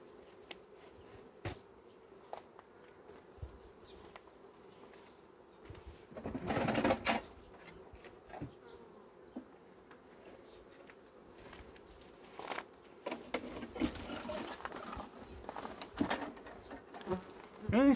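Honeybee colony buzzing steadily in an opened hive while the brood nest is taken apart, a continuous close hum with louder surges and scattered knocks of frames throughout.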